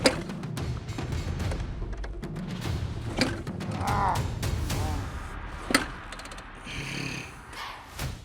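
A rare dirt bike being kicked over repeatedly without firing, with mechanical clanks, creaks and ratcheting of the kick-start lever and a few sharp knocks, close up with no talk.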